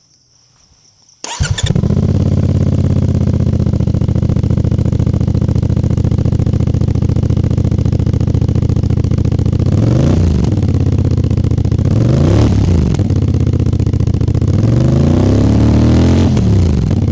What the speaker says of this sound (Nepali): म तपाईँहरूलाई यसको एक्जस्ट नोट सुनाउँछ है त कस्तो